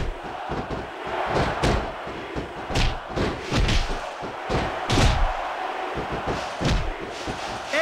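Wrestling game crowd in WWE SmackDown vs. Raw 2006 at a Royal Rumble, arena cheering that swells behind repeated slams and thuds of bodies hitting the mat.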